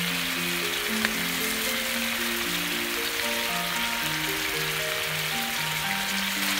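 Bacon rolls simmering and sizzling in sauce in a pan, a steady close frying hiss over soft background music with no talk.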